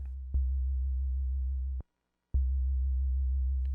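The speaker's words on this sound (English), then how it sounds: "I want a smooth 808 sound." A smooth, deep sustained analog synth 808 bass tone plays alone, cutting off briefly with a click before resuming at the same steady pitch.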